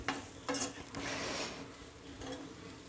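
Cooked chicken being scraped and spooned out of a pan onto a plate, with clattering spoon-on-metal scrapes and a few sharp knocks over a light sizzle, close and fairly loud.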